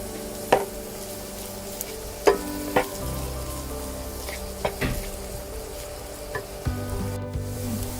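Carrots and onion for pancit sizzle steadily in a hot pan, a close, continuous frying hiss broken by a few sharp knocks and scrapes of stirring.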